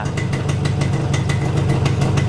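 A repaired motorcycle engine idles steadily up close, a dense continuous mechanical rumble with a fast regular firing pulse and no breaks.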